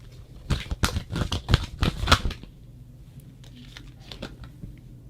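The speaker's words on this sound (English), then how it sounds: "So go ahead and think of that question while I'll shuffle, and we'll get you an answer." Tarot cards are shuffled by hand in a rapid burst of crisp riffling and slapping for about two seconds, then quieter scattered card flicks and taps follow, close and with no talk.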